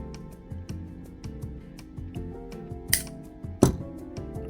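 Small scissors snipping jewelry wire while earrings and a bracelet are made, with one sharp, close snip standing out near the end amid faint ticking and light handling noises.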